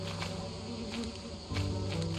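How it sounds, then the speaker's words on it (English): Bees buzz in the video game Lethal Company near a facility entrance, a steady droning hum that holds throughout and swells slightly in the second half. "Careful, on the way to the entrance, there's bees."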